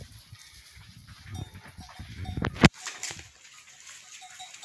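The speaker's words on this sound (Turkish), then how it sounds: "Evet koyunlarımız geliyor şu an." Sheep bleat from a flock moving outdoors with goats following behind, with scattered animal calls and rustling, and one sharp knock partway through.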